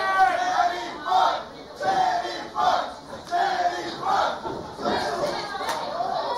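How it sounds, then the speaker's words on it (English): Wrestling crowd at a Clash of Champions event chanting loudly in rhythmic, repeated bursts, a large arena audience roaring in waves with no clear talk over it. "I think the crowd's calling for Terry Funk"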